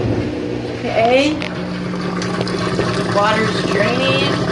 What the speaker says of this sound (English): water's draining.